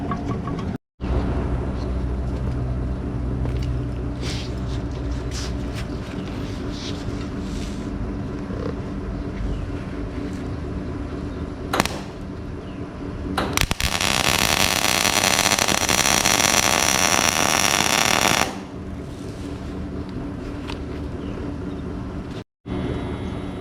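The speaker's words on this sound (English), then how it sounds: "I'm gonna put that nut on there, I'm gonna weld it to it" Wire-feed welder fusing a nut onto a bolt during a 1955 Oldsmobile front end rebuild, a loud steady crackling buzz lasting about five seconds amid quieter shop noise and short clicks.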